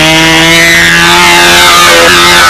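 A model airplane engine runs loud and close with a steady high-pitched buzzing whine, pitch shifting slightly near the end, at a windy model aircraft competition.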